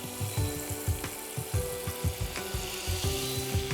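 Butter and olive oil sizzle in the bottom of a pan, a close, steady frying crackle with small irregular pops and faint scraping.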